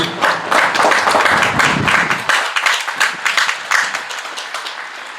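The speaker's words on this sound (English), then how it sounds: "Let's give them all a nice round of applause, please." Outdoor crowd at a Memorial Day ceremony applauds police and first responders, loud dense clapping at first that thins into scattered individual claps.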